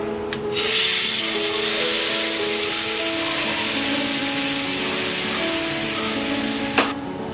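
Hot tempering poured into red coconut chutney, with onion and red chilli, sizzles loudly at once and keeps up a steady, bright frying hiss for several seconds before stopping abruptly.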